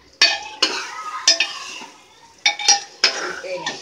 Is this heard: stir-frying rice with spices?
yes